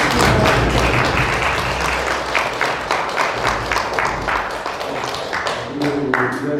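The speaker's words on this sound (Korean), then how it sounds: "오늘 두 분께 힘찬 박수가" A hall audience claps for two honored guests, a doctor and a former university professor, at a local event; dense, steady applause fills the room close by with scattered sharper claps throughout.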